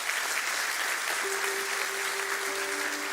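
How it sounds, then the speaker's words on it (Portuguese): Dense, steady applause from a church congregation during a morning service fills the clip from start to finish, loud and even, with a faint sustained tone entering partway through. "Dê o melhor aplauso que você pode dar ao Senhor"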